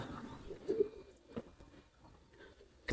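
A soft, low pigeon coo sounds close by, a couple of brief murmuring notes in a quiet space, ending with a sudden louder knock.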